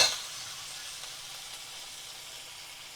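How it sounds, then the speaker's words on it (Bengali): Ginger-garlic paste drops into hot oil and sets off a soft, even sizzling hiss that runs unbroken for a few seconds with no voices. "2 চামচের মতো আদা রসুন বাটা দিয়ে দিলাম"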